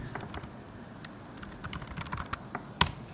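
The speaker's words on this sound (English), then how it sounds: "So go to the client and type if config." Soft, quick keystrokes on a computer keyboard as a network command is typed, with a slightly louder final key press, all quiet and close with no talking.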